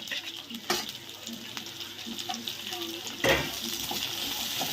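Chopped vegetables stir-fry with noodles in a home kitchen pan, making a soft steady sizzle broken by a few sharp utensil clinks and stirring scrapes at moderate distance.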